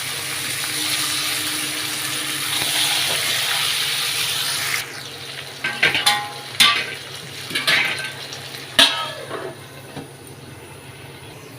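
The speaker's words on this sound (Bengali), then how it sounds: "আর আলুগুলো আগে ভেজে আর একটু ভাপ দিয়ে নিচ্ছি প্রেশার কুকারে এইটার মধ্যে" Potatoes fry in a pressure cooker, giving a steady broadband sizzle for several seconds, followed by clanking utensil knocks and scrapes against the pot.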